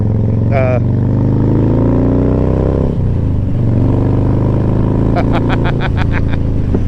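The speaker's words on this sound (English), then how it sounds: "1450cc, big old fat boy." Harley-Davidson Fat Boy motorcycle with a 1450cc engine idling and revving nearby, a steady low rumble that dips and swells, with a voice cheering over it early on.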